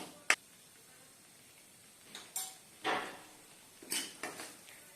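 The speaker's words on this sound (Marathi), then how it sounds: "एखाद मिनिटभर अशा पद्धतीनं हलवायचंय आपल्याला" A spoon scraping and clinking against a pan while turmeric is stirred into a dhaba-style cashew curry, a few sparse metallic taps and scrapes spread over quiet gaps, close by with no speech.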